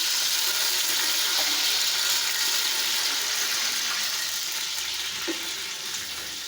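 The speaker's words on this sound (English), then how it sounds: "Now I'm adding water." Water is poured into a pot of frying onions and oil for Ogbono soup, making a loud, close, continuous hissing rush that tapers slightly toward the end, with no talking.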